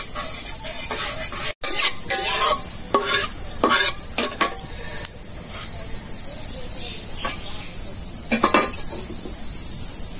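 Two whole dried chilies, a bay leaf and cumin seeds fry in hot oil, setting off a sizzling hiss broken by repeated clinks and scrapes of a spoon stirring against the pan, close to the microphone, outdoors at Cox's Bazar.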